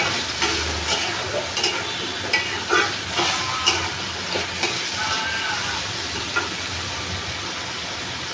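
Shrimp curry with ridge gourd and potato fries and sizzles steadily in a pan while a utensil stirs and scrapes at intervals, close and fairly loud.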